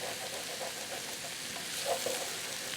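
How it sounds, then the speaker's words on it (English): Onion liquid sizzling in a hot skillet while deglazing, with a steady close hiss and faint stirring scrapes on top. "The liquid from the onions is helping me to deglaze this skillet."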